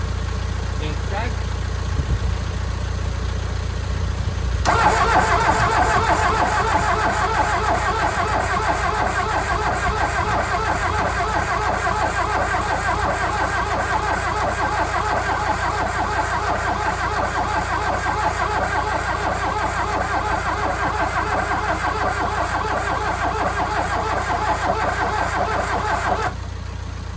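A VW Rabbit truck's 1.6 diesel engine cranks briefly and then catches, settling into a steady, loud, close clattering idle that runs on for about twenty seconds before cutting off.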